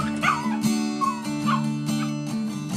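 A small female dog gives a series of short yips and high, wavering whimpers, close and clear over a steady tonal background, with no talking.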